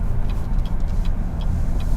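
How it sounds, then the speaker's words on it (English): A car drives steadily past on a street in Lightning Ridge, its engine hum and tyre noise holding a continuous, fairly close rumble throughout. "It's that car again. What's it doing?"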